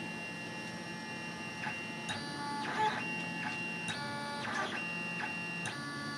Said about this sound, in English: Now the printer is going to basically go all the way down, and it's going to measure the Z position.